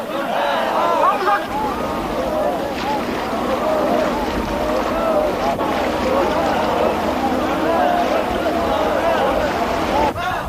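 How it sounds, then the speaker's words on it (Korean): Marine Corps rubber boats move across the water during a training exercise, with steady splashing and wash under loud overlapping voices and shouting from the crews. "오전 내내 보트의 수상이동 훈련이 계속되고 있다."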